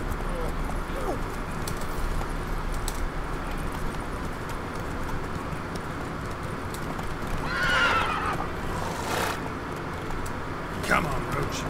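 Roach, the horse in The Witcher 3: Wild Hunt, whinnies and clip-clops through the game's outdoor soundscape. Soft hoofbeats run throughout, a couple of neighs stand out near the end, and ambient game sound and a voice sit underneath.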